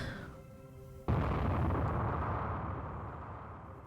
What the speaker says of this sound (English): I heard an explosion coming from the track outside.